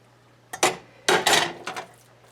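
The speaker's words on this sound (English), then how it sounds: "I'm going to take half of my cabbage and onions and drop them in there" Chopped cabbage and onions dropped into a cooking pot, a few quick clattering thumps and rustling impacts in two or three close bursts, near and fairly loud against a quiet background.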